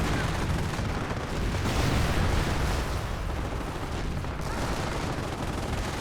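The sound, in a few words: Sherman tank firing at Panzer IV in Company of Heroes video game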